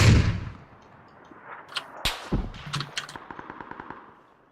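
Gunfire from the player's weapon in a video game, a short burst of sharp shots followed by a rapid, fading string of cracks, loud and close with no talk.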